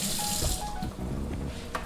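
Marsala wine pours from a bottle into a cooking pan, a close, steady splashing gush of liquid lasting a couple of seconds.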